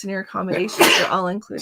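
A single quick sneeze from a person on a live cruise talk show, bursting out in the middle of conversational speech.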